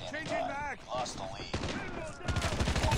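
Shotgun and rifle fire in a shooter game, quick bursts of shots landing under excited talk, with a louder run of rapid gunfire near the end.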